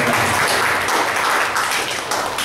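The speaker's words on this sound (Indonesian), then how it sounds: "Sekali lagi beri tepuk tangan." An audience at an Indonesian young-entrepreneur info session bursts into dense, sustained applause, many hands clapping together at steady volume.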